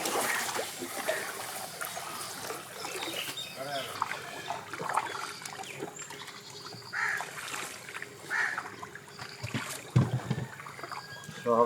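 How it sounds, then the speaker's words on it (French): Water trickles and splashes gently around a small shikara boat gliding across a lake in Srinagar, India, with occasional soft knocks and faint background sounds. "les petits bateaux où on est posé dessus, c'est appelé des shikara"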